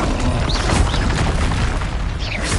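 Expelliarmus spell impact in Hogwarts Legacy, a loud sustained boom with crackling noise and a few whooshing sweeps over a heavy rumble.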